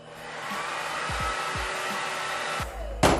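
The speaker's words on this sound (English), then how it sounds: "I need the blow dryer." A handheld blow dryer runs steadily at close range during an at-home fringe cut, with a few low thumps as it is handled and a sharp burst near the end.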